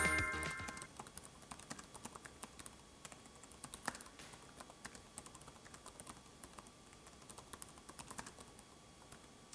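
Fast, light typing on a laptop keyboard with 1.5mm key travel, a steady patter of soft key clicks, close and quiet, with no voices.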